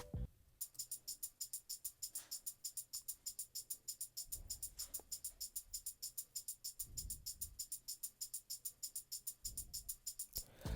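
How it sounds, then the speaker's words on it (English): A repeating tambourine loop from an Afrobeats beat remake, its bright jingle shakes ticking in a steady, fast rhythm throughout, with occasional low thumps underneath and no voices. "a tambourine loop"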